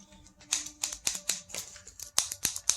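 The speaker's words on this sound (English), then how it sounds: "Button's got a good clicky feel to it." Button on a Yeswelder MIG 205 welder torch clicked repeatedly, a run of about eight sharp, crisp plastic clicks at an uneven rhythm, close and fairly quiet with no talking.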